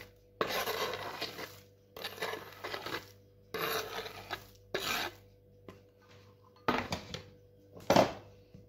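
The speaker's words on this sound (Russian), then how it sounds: "И все хорошенько вместе перемешиваем." Chopped nuts folded into whipped egg whites in a bowl for a meringue cake, heard as repeated scraping and rasping strokes of a utensil against the bowl in short bursts with brief pauses between them.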